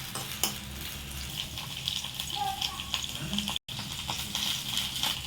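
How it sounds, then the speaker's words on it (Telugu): Okra (bendakaya) frying in a pan in a home kitchen, a steady sizzle with occasional utensil clinks and stirring, with talk over it. "మళ్ళీ దీంట్లో బెండకాయలు వేయించుకుందాం"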